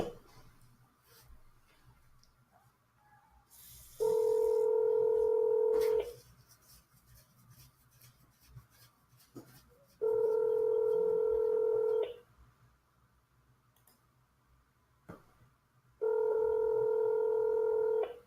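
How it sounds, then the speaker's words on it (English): Telephone ringback tone heard while a call connects during an online session: three steady two-second buzzing tones spaced about six seconds apart, loud against a quiet background with faint clicks between them. "I'm getting him on the phone now so you can refresh the screen"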